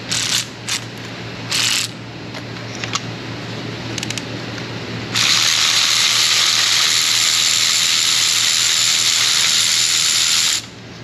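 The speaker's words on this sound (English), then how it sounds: "Let's go ahead and pull the remaining two plugs out and we'll drop the new ones in." A ratchet clicks in short bursts, then a long steady hiss-like whir follows while spark plugs come out of a Jeep Wrangler's 3.6 Pentastar engine, close and fairly loud, with no talking.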